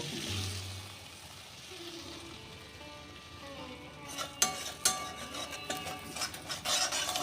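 Beaten egg is scrambled into small bhujia pieces in a pan, starting with a quiet low sizzle before clattering scrapes and stirring knocks of a utensil pick up, fairly close and intermittent.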